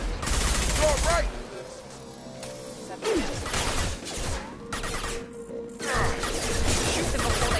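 Gunfire in the Mass Effect video game, loud bursts of rapid shots and crashing impacts in a chaotic firefight, with voices calling out amid the shooting.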